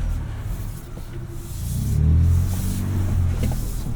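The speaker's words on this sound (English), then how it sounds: "And we're just gonna throw us in Baja exhaust because why not?" A Ford Ranger Raptor pickup in Baja drive mode growls through its engine and exhaust on a rocky off-road course, a low rumble that swells to a throatier peak midway before easing back.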